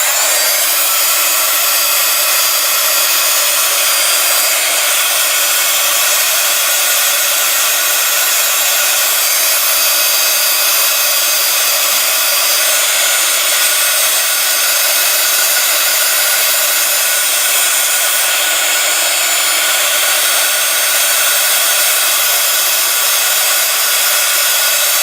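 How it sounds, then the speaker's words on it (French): Heat gun blowing hot air over an art journal page, a loud, steady, close-up roar that holds unbroken throughout with no voices. "Et je vais passer un petit coup de heat gun."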